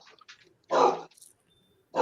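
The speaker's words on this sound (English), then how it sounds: "Somebody's barking." A single short dog bark stands out amid quiet, with faint scattered sounds and another bark starting at the very end.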